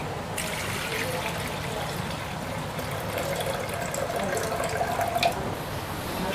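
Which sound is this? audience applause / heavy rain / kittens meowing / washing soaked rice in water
washing soaked rice in water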